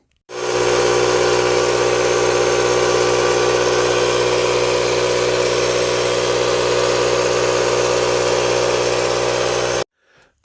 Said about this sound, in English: the next step is to air up the tire to see if it holds